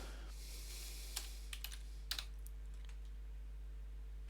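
A computer mouse clicks a few times, with soft, close clicks in a short irregular cluster over a quiet electrical hum.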